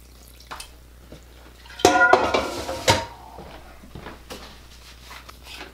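A spoon stirs rabbit spaghetti ingredients and chicken stock in a metal pot, with a short burst of loud clanking and scraping midway, then quieter clinks.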